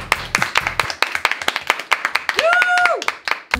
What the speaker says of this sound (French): on applaudit Nathan qui met une belle note